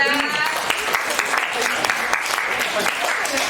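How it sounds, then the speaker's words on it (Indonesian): A classroom of students claps for a student group. The clapping is steady and fairly close, runs for a few seconds, and has a teacher's voice over it. "kita beri aplaus untuk kelompok 3"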